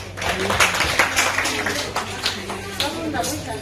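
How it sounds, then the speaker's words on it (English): An audience clapping for a prize winner at a school result day ceremony, a short burst of scattered hand claps mixed with voices talking. "Clap for her."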